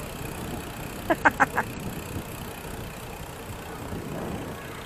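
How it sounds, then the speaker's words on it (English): Ducklings on a cycling route through Ban Ta Klang near the Mun River give a short, quick burst of quacks midway, then one softer call, over steady outdoor background noise. "Oh, baby ducks!"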